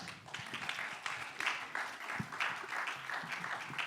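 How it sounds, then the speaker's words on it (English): An audience claps for people crossing a stage at a storytelling event, a moderate round of applause with scattered individual claps, heard at a modest distance. "Please give a round of applause for them."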